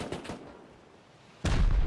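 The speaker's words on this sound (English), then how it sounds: "I think some of that was C4." Heavy explosions from C4 in the survival game Rust during a team base raid: a couple of muffled booms at the start, a quieter stretch, then a loud sudden blast that keeps rumbling to the end.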